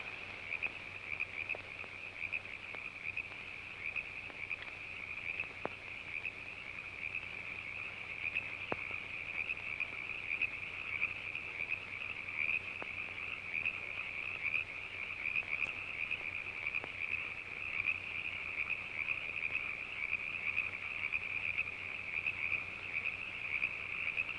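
Steady nighttime chorus of frogs croaking outside a cabin, a continuous high trilling drone with scattered sharper clicks and croaks layered over it for the whole stretch, with no talking.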